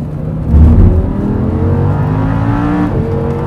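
A race car lapping the Zolder circuit in a Blancpain Sprint Series GT car, its engine droning loud and close from onboard, revs climbing steadily through the gears after a brief heavier burst, with no voices.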